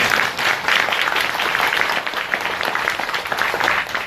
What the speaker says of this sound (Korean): 서로를 위해서 박수 부탁드리겠습니다